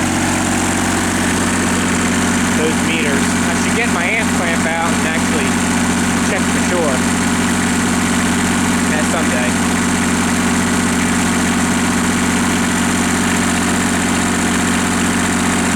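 A generator runs steadily with two heaters connected as load, giving a constant low hum and droning engine tone with mechanical vibration throughout, close and loud, with faint voices in the background at times.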